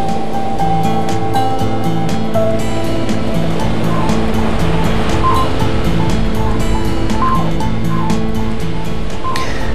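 Heavy surf pounds a Namibian beach, a loud, continuous roar of breaking waves with wind buffeting the microphone and no voices.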